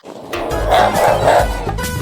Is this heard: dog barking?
yes